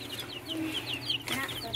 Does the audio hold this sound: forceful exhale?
no